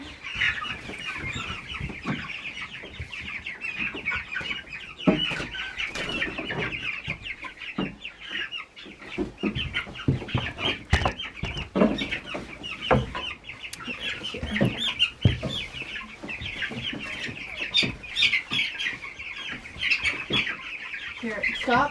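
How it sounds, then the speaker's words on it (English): Seventy Cornish cross broiler chickens cluck and chatter continuously inside a pen on a farm in Maine, with dense overlapping calls and occasional squawks at moderate distance. "There are 70 Cornish cross broilers in here."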